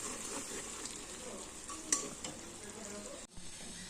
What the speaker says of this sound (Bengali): এদিকে মাংসটা এখনো কষাচ্ছি, এটা কষতে থাক